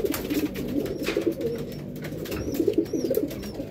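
Racing pigeons coo in low, rolling murmurs at a pigeon derby, several birds close by in a steady chorus with faint chirps and light background noise.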